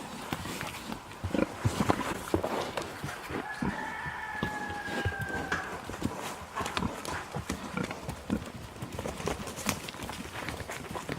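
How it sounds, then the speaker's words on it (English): Pigs grunting and snorting in a busy farmyard, with scattered thumps and shuffling, a rooster crowing briefly in the background, and no talking. "Now those are some happy pigs."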